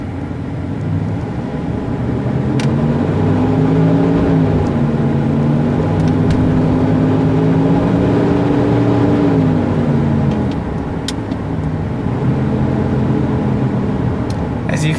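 A 2003 Dodge Dakota drives along on a test drive, with a steady engine drone and road noise heard from inside the cab and a rising then falling engine tone as it shifts gears.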